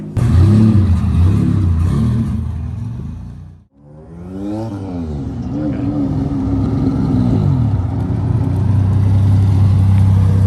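A turbocharged V6-swapped Honda Civic drag car revs hard, briefly cuts out, then climbs again in rising surges with turbo spooling, a loud, rough engine note throughout.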